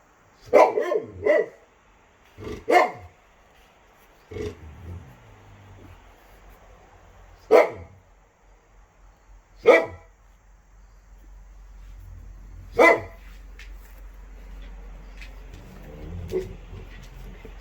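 A Great Pyrenees barks in scattered single and double woofs with long pauses between, fairly loud against a quiet background with faint insect chirping.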